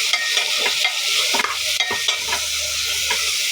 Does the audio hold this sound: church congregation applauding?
no